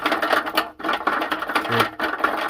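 Noisy idler roller inside a GE premium-model clothes dryer, a steady close mechanical rattle and whir with a brief dip in the middle, continuous and fairly loud, no talk.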